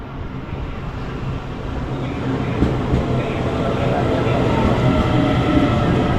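Steady loud rumble of a crowded passenger train in motion, with continuous broadband roar throughout and no clear talk over it.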